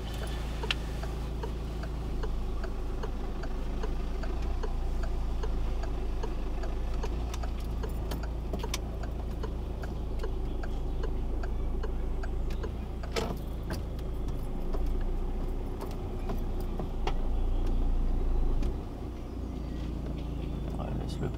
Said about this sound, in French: Clignotant.